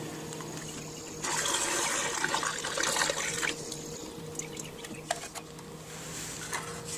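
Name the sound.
gasoline poured out into a fuel container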